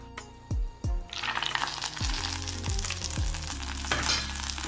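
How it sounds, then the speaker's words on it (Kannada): Mustard seeds and a chili go into hot oil for a tempering, with a few dull drops into the pan followed by a steady close crackling sizzle. "ಎಣ್ಣೆ, ಸಾಸಿವೆ ಹಾಗೂ ಒಂದು ಮೆಣಸಿನಕಾಯಿ ಹಾಕಿ ಒಂದು ಒಗ್ಗರಣೆ ಕೊಡೋಣ"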